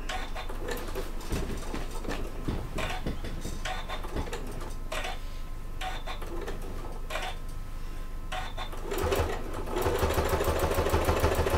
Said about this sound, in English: Make sure you reverse your stitch at the end as well